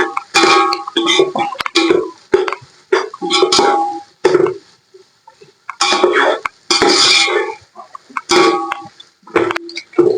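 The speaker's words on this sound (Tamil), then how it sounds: "பேஸ்ட் எல்லாத்தையும் வந்து ஒன்னா போட்டு வதக்கிடலாம்." Vegetables and masala paste being sautéed together for homemade dum chicken rice, with repeated bursts of utensil scraping and pan clatter close by, no talking.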